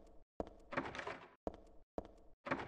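A locked bathroom door in Silent Hill 3 rattles in short repeated bursts, loud clattering shakes separated by brief silent gaps.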